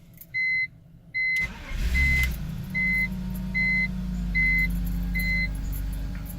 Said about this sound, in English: Now I'm gonna try to start the car.